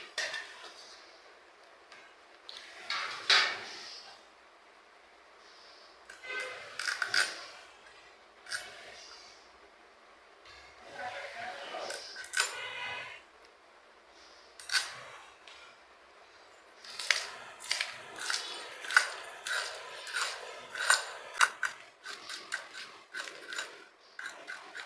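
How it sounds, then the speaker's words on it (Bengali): Knife cutting two small hilsa fish into pieces: scattered scraping and chopping strokes in uneven bursts, close and fairly quiet, with short pauses between clusters of cuts. "মাছ দুইটা আমি এখন কেটে নেব।"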